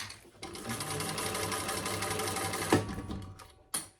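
A sewing machine basts a bag lining with a slip pocket at an eighth-inch seam. It gives a steady, fast, close whir that stops abruptly near the end, followed by a couple of brief clicks.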